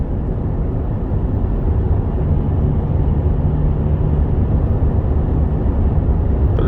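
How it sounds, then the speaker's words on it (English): Constant low-pitched rumble of road and tire noise inside a 2017 Nissan Rogue SV cruising at just under 2,000 RPM, a steady, loud, muffled drone with a faint hum and no talking. "You hear some road noise in this car"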